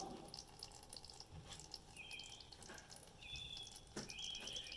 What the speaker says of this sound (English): we're going to take our container with alum, and we're going to pour it through the sand filter